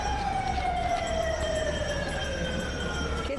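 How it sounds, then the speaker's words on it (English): Emergency vehicle sirens at a Santa Claus parade wail steadily with a slowly falling pitch, sustained and fairly loud over a low rumble of traffic, with no talking. "The kids love all the sirens."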